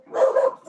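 A dog gives a short, close bark, a single bright yip in an indoor room during a zoning board meeting.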